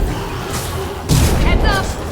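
A weapon fires in the video game Mass Effect 2 with a heavy, loud boom about midway through, followed by crackling rumble and a short rising electronic whine.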